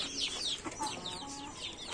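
A farm rooster clucks near a cage, its repeated bird calls continuous and fairly close against a steady background.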